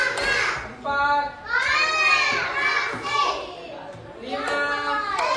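Children in an elementary school classroom clap in counted rhythmic bursts while their chanting voices ring over the claps, several distinct groups of sharp hand strikes spaced across the moment.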